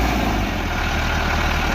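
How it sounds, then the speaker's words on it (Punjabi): A tractor engine drones loudly and steadily up close as it climbs, a low continuous rumble with no pauses. "ਟਰੈਕਟਰ ਚੜੀ ਚੰਗੀ ਗੱਲ ਆ।"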